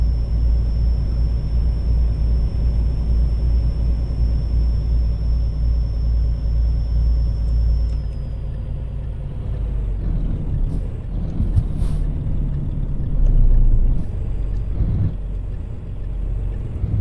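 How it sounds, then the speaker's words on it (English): A Kenworth W900L truck in Euro Truck Simulator 2 rumbles with a steady low engine drone and a sustained high turbo whine that holds for about eight seconds, then fades out as the engine note shifts and settles. "Just listen to that turbo whine."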